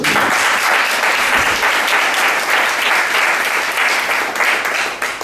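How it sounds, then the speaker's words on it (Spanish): Loud, dense audience applause fills a Spanish-language religious sermon, a steady wash of many hands clapping together without a break for several seconds. "Dale un aplauso al Cristo."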